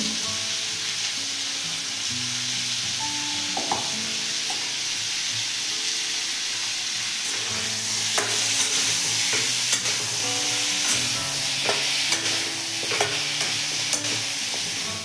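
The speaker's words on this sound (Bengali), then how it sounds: "কুমড়ো ভাজা হয়ে গেছে" Pumpkin frying in a pan with salt and turmeric, a long steady sizzle under repeated spatula clacks and scrapes as it is stirred, loud and close, growing busier toward the end.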